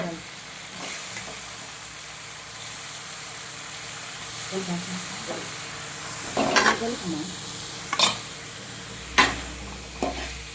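Cooked rice being stirred into lemon rice in a pan, a soft continuous scraping and faint sizzle with a few sharper spoon knocks toward the end, close and moderately quiet.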